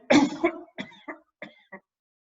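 A burst of deliberate breath-training coughing, one heavy cough followed by several shorter, quieter coughs, close and alone against silence.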